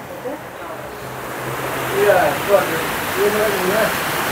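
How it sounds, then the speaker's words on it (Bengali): Heavy rain falls outside in a steady, broad wash of noise, heard from indoors, with soft voices murmuring faintly underneath. "প্রচণ্ড পরিমাণে বৃষ্টি হচ্ছে বাইরে।"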